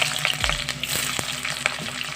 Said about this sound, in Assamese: তেল গৰম হৈছে, পিঁয়াজখিনি